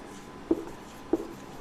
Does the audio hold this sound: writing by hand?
yes